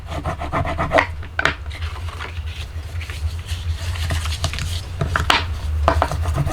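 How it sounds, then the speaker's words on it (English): A bone folder burnishes score lines on paper for a Post-it note cube, giving repeated close rubbing and scraping strokes in an uneven rhythm, with no voices. "So I am going to grab my bone folder. And I am going to burnish these down."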